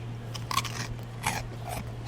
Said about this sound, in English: here is the lovely croutons at the Pizza World, and they are so good. Let me show you how crunchy they are.